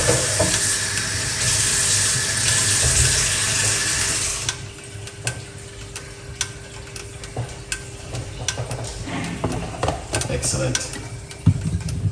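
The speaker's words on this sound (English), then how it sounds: "Okay, let's wash off these ingredients." Tap water pours loudly and steadily over cloves and other cooking ingredients for about four seconds, then cuts off, leaving quieter clinks and rustles of the ingredients being handled.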